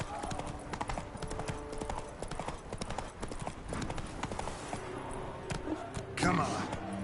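Hoofbeats of a horse galloping in The Witcher 3 on PlayStation 5, a steady fast clip-clop running throughout, close and fairly loud, with game music and a voice talking over it.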